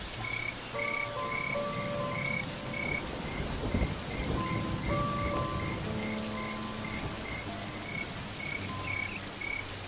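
Heavy rain pours steadily while frogs croak in repeated calls and crickets chirp in a continuous, rhythmic pattern.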